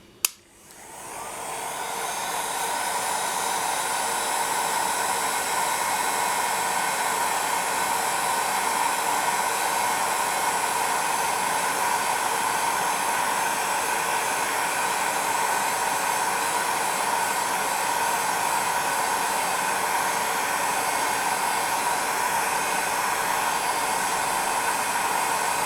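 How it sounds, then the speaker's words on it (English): A heat gun blows a steady, loud hiss of hot air over polymer clay for faux amethyst geode earrings, kicking on abruptly and running nonstop for the rest of the stretch. "now I'll just grab my heat gun and I'll just quickly set it"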